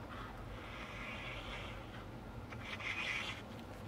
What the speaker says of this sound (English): take and press and burnish